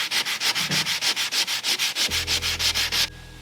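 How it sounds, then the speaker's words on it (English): Rhythmic back-and-forth hand sanding on intricate wood furniture to strip the old finish, about fourteen quick, even, close strokes, then the scraping stops and a low hum continues. "you want to sand out as much damage and as much finish as you can"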